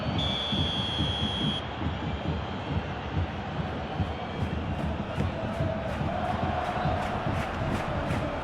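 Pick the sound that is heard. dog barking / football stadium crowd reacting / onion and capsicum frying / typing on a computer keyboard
football stadium crowd reacting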